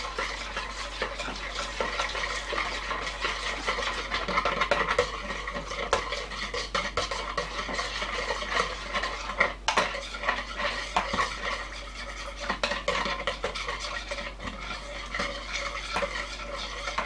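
A utensil steadily mixes French toast batter in a bowl, producing soft continuous scraping and clinking against the sides, fairly quiet with occasional sharper taps and no talking.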